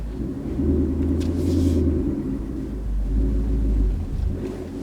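A manual Ford Mustang GT pulling away slowly in first gear, a deep low engine rumble that swells and eases in two surges, heard from inside the car without talking.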